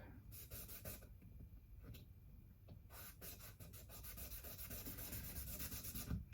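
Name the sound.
sanding wood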